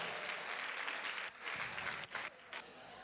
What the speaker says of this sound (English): Give him a big round of applause, guys.